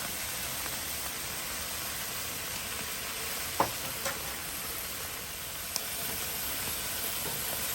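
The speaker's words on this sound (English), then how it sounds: "I'm just going to keep basting and flipping until they're done." Pork tenderloin sizzles steadily on a grill while being basted with sauce and flipped, an even close hiss with a few soft clicks and taps from the turning.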